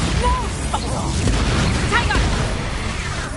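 A Bombarda explosion spell in the Hogwarts Legacy game, a dull booming burst with crashing debris in a noisy fight. Scattered voices sit underneath.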